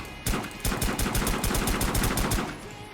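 A semi-auto shotgun fires in a single-player shooter game, a rapid burst of about a dozen loud, sharp blasts in quick succession, alone without speech.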